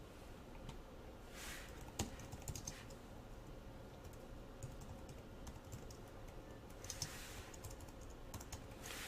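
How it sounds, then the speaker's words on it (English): A computer keyboard clatters softly and quietly while code is written, with a steady run of keystrokes broken by a few sharper, louder key taps. "I can just hit the tab on my keyboard"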